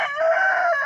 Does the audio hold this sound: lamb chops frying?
no